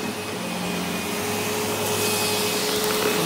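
A vacuum cleaner running with its hose in a vacuum store, giving a loud, steady, close motor whine and airflow roar that holds without a break.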